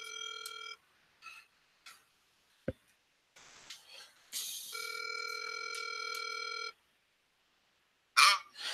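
An outgoing phone call in a real estate setting: dial tones and keypad beeps, a click, then a long steady ring tone, with faint clicks between and a brief burst at the end, all fairly quiet.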